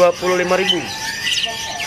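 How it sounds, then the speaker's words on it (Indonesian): Lovebirds and other caged birds chirp and squawk at a bird market stall, sharp overlapping calls close by mixed with a voice talking over them. "Ini ada juga burung lovebird ya?"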